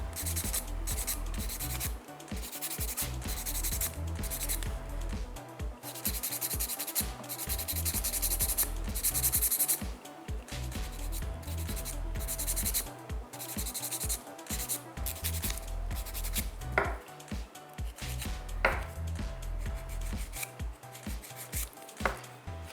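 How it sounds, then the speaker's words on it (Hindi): A nail file rasps over gel nails to smooth them, producing close, steady back-and-forth scraping strokes in a quick, even rhythm with short pauses between passes. "जैसे मैं ये फाइलर चला के इसकी स्मूथनेस जो है वो बैलेंस कर रही हूँ"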